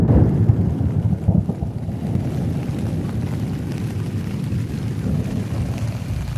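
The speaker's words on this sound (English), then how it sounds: "I hear the thunder echoing through the hills of southern Indiana here" Low, rumbling thunder rolls steadily for several seconds, echoing through the hills of southern Indiana, a deep continuous roar with no voices.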